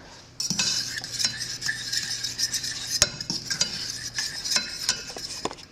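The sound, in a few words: stirring lemon juice and cornstarch mixture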